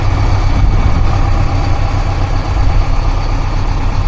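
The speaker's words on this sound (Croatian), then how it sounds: "Čekamo taj zvuk, pokrećemo motor." A Scania Liebherr LTF 1045 truck crane engine idles just after starting, left to run after sitting unused over a weekend. Its steady, loud low diesel rumble continues unbroken throughout.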